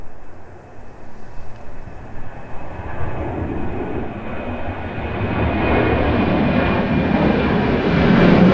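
An airliner descending toward an airport during a storm with strong winds, its engine roar building steadily from a distant rumble to a loud, close, broad drone, mixed with gusty wind buffeting.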